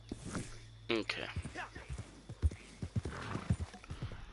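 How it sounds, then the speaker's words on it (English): Horses in the Red Dead Online video game give sharp clip-clop hoofbeats in an irregular rhythm, with a brief whinny early on and someone talking over them. "And those are horses, that's irritating."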